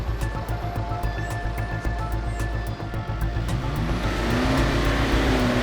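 A 4WD truck stuck off-road, revving hard as it crabs sideways instead of driving out, its engine a loud, steady growl with rhythmic lugging pulses that rises in pitch and intensity toward the end.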